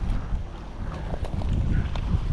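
Strong wind gusts across a microphone outdoors on a flathead fishing trip, giving a steady low, blustery rumble with no talking.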